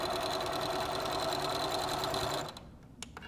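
A sewing machine runs a steady, fast top stitch along a quilted carrying cozy, a loud close whirring hum that stops near the end, followed by a few small clicks.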